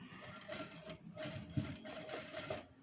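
A sewing machine stitches a sleeve design trimmed with potli buttons, running in short rapid bursts of mechanical chatter with brief pauses between them, close and fairly steady, with no voices.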